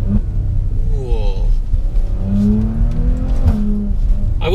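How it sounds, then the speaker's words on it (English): Maserati Levante SUV engine note while driving in manual mode, a steady loud rumble with rising and falling revs, talk heard intermittently over it. "I'm still enjoying the characteristics of this engine note."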